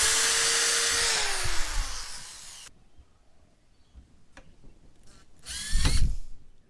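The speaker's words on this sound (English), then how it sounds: "drill a pilot hole, and whack in a screw." A power drill whines steadily as it drives a screw into a pilot hole in a 90-degree elbow on a homemade quail feeder, then winds down, followed by a few short, sharp bursts and a final louder spin.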